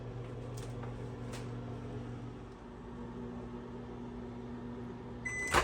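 Microwave oven running while cooking cashew brittle, a steady low hum with a faint tonal drone throughout, ending with a short burst of clicks and a beep.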